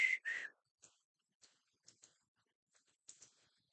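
A person whistles two short, shrill, close notes at the start, followed by faint scattered clicks and ticks in near silence.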